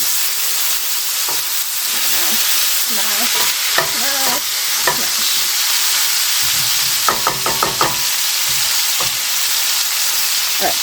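Homemade cheeseburger patties frying in a pan inside a travel trailer, a steady loud sizzle and hiss with occasional scraping and clinks of a spatula, no talk.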